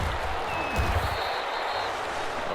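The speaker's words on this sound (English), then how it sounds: "How about some applause for the defense there?" Stadium crowd applause and cheering in the Madden NFL 21 football video game after a defensive stop, a steady dense roar with a brief swell partway through, no talk over it.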